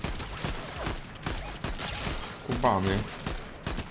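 An enemy in Fortnite fires through trees: rapid cracks of gunfire rattle in quick bursts across the clip, mixed with game effects, while a player talks over it.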